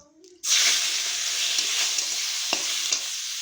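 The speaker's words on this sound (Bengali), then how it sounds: "কড়াইতে রয়েছে তেল, এখন তেলের উপর চিংড়ি মাছটা দিয়ে দেবো" Prawns drop into hot oil in a kadai and a loud sizzle erupts after a brief quiet moment, then holds steady with a couple of sharp stirring knocks.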